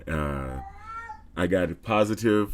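A cat meows in long, drawn-out, wailing calls, close and loud, with a person speaking briefly between the cries.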